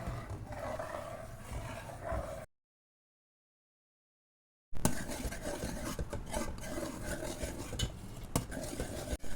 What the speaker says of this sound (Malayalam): ഇനി ഈ പാലട ഒന്ന് നല്ലോണം വെന്തോട്ടെ, ഇടക്കൊന്ന് ഇളക്കി കൊടുക്കുക.